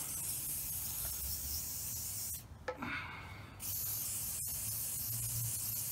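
An aerosol can of water-repellent protector sprays onto a pair of Yeezy 350 Boost sneakers, a close, steady hiss that breaks briefly in the middle and then resumes.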